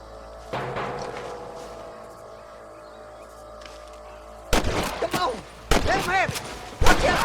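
Gunfire in the video game Red Dead Redemption 2: after a quieter stretch with low ambience, loud bursts of shots erupt, with sharp cracks near the end, mixed with excited voices.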